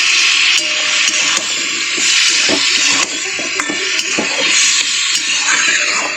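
A spice masala fries with a little water in a pan while being stirred, giving a steady loud sizzle broken by repeated sharp scrapes and clinks of the utensil against the pan.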